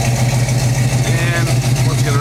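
Classic car's original exhaust idling close by, a steady low rumble with a pulsing throb, loud and continuous without talk.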